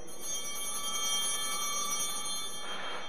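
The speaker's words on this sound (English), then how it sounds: "the cross bearer will ring the bells to let everybody know now is the time to kneel" Altar bell rung by the cross bearer at Mass, a long sustained ring with bright tonal overtones that rings on steadily and then fades, heard alone at moderate level.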